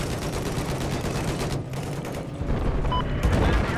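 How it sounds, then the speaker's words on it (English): Battlefield 4 multiplayer gunfire: dense, continuous bursts of automatic weapon shots and booms crowd the scene from start to finish, loud and close, with faint voice chat underneath. "Okay, everyone's shooting. I'm shooting."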